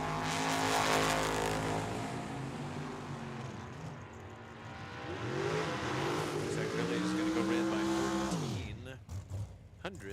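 Drag racing at Tucson Dragway, with a 1988 Chevrolet Camaro launching and revving hard down the strip, loud engine roar with rising pitch sweeps and a sharp cutoff near the end, a commentator talking over it.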